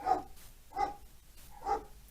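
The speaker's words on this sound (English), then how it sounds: "Oh my gosh, the dogs." A dog barks three times at an even pace, each bark moderately loud and fairly close, with quiet room tone between them and no talking.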